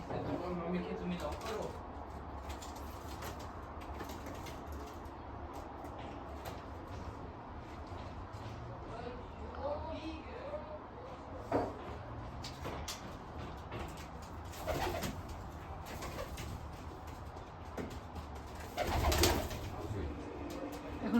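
Pet pigeons coo softly in a home, low repeated burbling calls beneath a quiet background, with a person talking at times and a few knocks.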